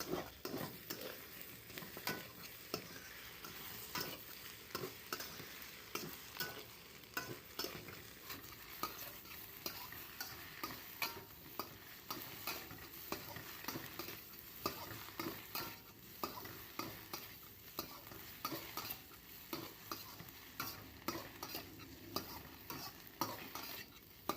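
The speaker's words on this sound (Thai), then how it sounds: "พอไข่เริ่มเซตตัวแล้วก็ใส่เห็ดลงไปได้เลย ผัดเห็ดให้สุกดีเลยค่ะ" Mushrooms and egg stir-fried in a pan, a constant sizzle with regular scraping and clattering of the utensil against the pan, continuing steadily and close without talk.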